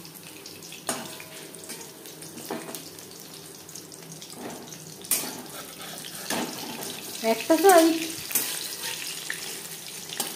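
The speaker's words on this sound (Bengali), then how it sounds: "হাই ফ্লেমে তেল আমি গরম করে নিয়েছি। ভাজবো মিডিয়াম ফ্লেমে।" Prawn chops for crispy chingri macher chop frying in hot oil over a medium flame, a steady hiss that swells into a louder, crackling burst near the end, with a brief spoken phrase partway through.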